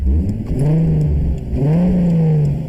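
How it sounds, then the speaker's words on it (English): A loud turbocharged MK4 Toyota Supra engine revs up, eases off, then revs again, a strong rising whine heard close with no other sounds. "There's your revs."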